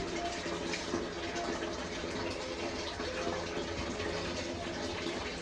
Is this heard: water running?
yes